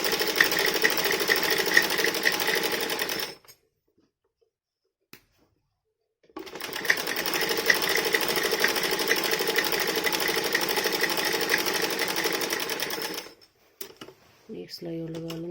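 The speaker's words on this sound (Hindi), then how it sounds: "आसन सिलेंगे।" A sewing machine stitches a dhoti salwar in two long, fast, rattling runs separated by a few seconds of silence, with a brief burst of clicks and handling at the end.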